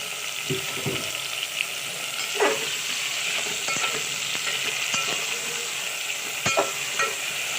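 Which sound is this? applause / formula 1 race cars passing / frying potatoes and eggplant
frying potatoes and eggplant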